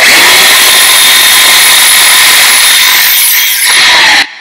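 A DeWalt multi-tool saws with a loud, continuous, high-pitched buzzing whine held close to the microphone, then cuts off abruptly just before the end.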